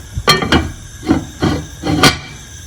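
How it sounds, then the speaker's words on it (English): A lid goes onto a cooking pot of stew, making a handful of short metallic clanks and rattles, close and fairly loud, spaced irregularly over a couple of seconds. "And then we'll cover it up"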